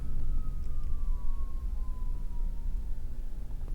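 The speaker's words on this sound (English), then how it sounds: "Oh boy, I hear sirens." Emergency siren wailing outside at night, a single slowly falling tone drifting in from a distance over a low rumbling background, steady and moderately loud throughout.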